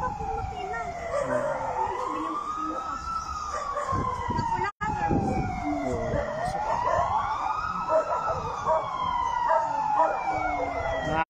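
A wailing fire truck siren at a fire in Barangay Ugong, Valenzuela, rises and falls in long sweeps, fairly loud, with background street noise and faint voices underneath.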